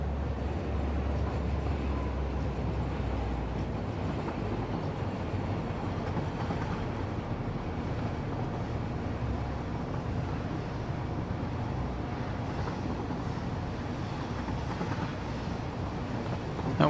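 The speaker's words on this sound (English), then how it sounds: "Setting up everything for the trains, trying to get the train lines to work right and everything." Trains run in the video game Satisfactory, a continuous low rumbling roar that holds steady and fairly faint for the whole stretch with no voices.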